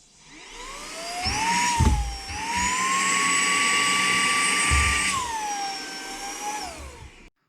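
A handheld vacuum cleaner spins up with a rising whine, runs at a loud steady pitch during a suction weight-lifting test, then winds down and cuts off, with a brief clunk near the start.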